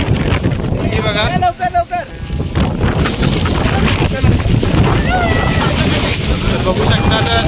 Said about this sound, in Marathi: किती जोराची हवा आहे हे बघा.